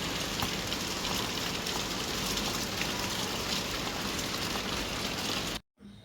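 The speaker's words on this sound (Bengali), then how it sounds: "মানে রিমঝিম বৃষ্টি হচ্ছে" Light rain falls steadily outside a home kitchen, a soft and even hiss of drops that holds at low volume before cutting off abruptly near the end.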